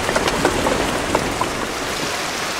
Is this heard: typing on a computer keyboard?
no